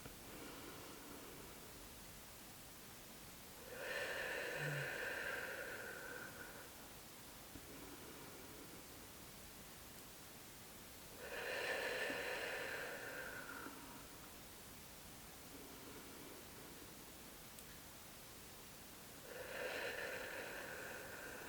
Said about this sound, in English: we continue to do 3 or 4 more deep breaths